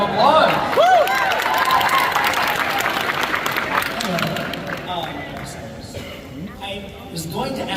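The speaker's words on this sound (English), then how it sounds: "round of applause" Convention panel audience applauding, a broad wash of clapping and crowd noise that runs the whole stretch and thins slightly toward the end, with some voices mixed in.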